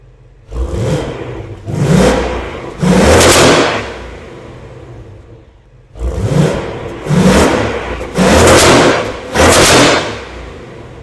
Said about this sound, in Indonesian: Sekarang langsung kita ubah ke mode quiet. Bakal semingkem apa ini mobil?